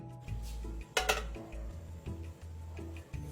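A brown sugar cake tin is set into a steamer pot over boiling water, a quiet low hum broken by one sharp metallic clank and a few faint clinks.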